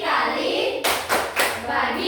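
Children in a classroom clap in unison during a rhythmic chant, giving three sharp group claps spaced roughly evenly against a continuous background of voices.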